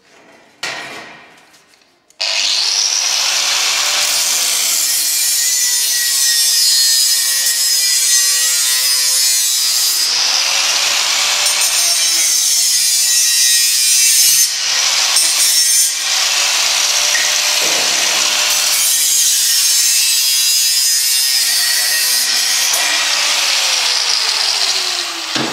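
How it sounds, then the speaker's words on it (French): An angle grinder cuts through metal pieces for a homemade barbecue, a loud, sustained harsh whine running almost continuously with brief dips between cuts, close and alone without talk. "on va les couper à la disqueuse"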